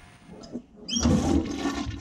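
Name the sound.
toilet flushing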